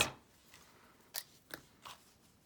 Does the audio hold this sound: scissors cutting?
yes